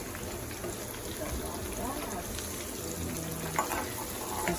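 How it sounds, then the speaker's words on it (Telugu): Onions frying in a pan with oil, a soft continuous sizzle and crackle heard close but at low level, with faint background noise and no clear talking over it. "దీనిలో ఆనియన్స్ ఫ్రై అవుతుంది"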